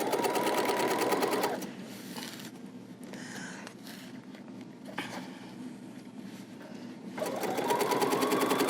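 A sewing machine stitches a quilted zipper bag, its fast, steady mechanical whir running loud and near at the start, pausing for a few seconds, then starting again.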